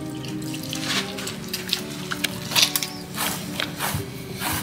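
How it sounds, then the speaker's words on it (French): Warm water is poured little by little into a dough mixture, splashing and trickling in short uneven surges close by. "On aura besoin de 2 verres d'eau tiède. Il faut mettre l'eau petit à petit."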